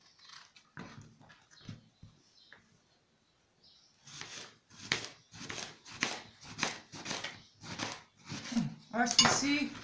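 A knife cuts eggplant into pieces on a board for a salad. Quiet, scattered cuts at first give way to a run of regular, rhythmic chopping strokes, fairly soft and close, with faint kitchen clinks.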